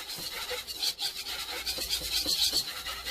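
A utensil scrapes and rubs steadily through shrimp egg foo young gravy in a pan, a close, continuous stirring rasp with no voices.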